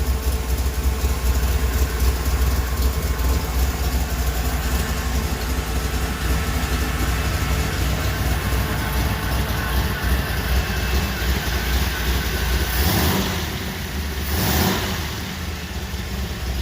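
A 1977 Chevrolet Camaro engine idles steadily and continuously at close range while warming up, a low mechanical rumble that holds even, with a brief dip near the end.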